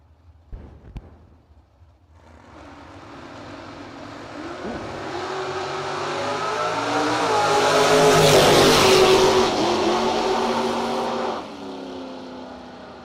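A race truck's engine builds from a quiet idle into a sustained, loud revving roar that peaks near the middle and then cuts off sharply, heard at an all-star No Box drag racing event.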